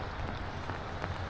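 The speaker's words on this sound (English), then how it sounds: "I love these kind of days where it's not raining too hard." Light rain falls steadily on a cloudy day at a dam, a soft continuous patter with low rumbling background noise and no voices.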